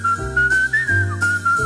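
A man whistles a sustained, wavering melody line in a song about coming under a balcony at night, the bright whistle running continuously over steady instrumental accompaniment.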